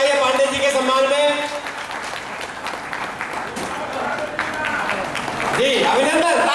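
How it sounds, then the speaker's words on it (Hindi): Audience applause at a Hindi heroic-poetry (veer ras kavita) recital, honouring a poet; steady broadband clapping throughout, mixed with a voice talking and tonal music-like elements over it, swelling again near the end. "जोरदार तालियां होनी चाहिए पांडे जी के सम्मान में"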